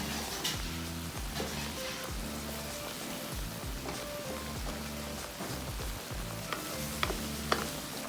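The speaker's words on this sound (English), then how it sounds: "Whatever you do, don't stop stirring because your coconut cream might burn." Coconut cream sizzles and bubbles steadily in a hot pan while being stirred until its oil separates, with soft spoon scrapes and crackles over a continuous frying hiss and no talking.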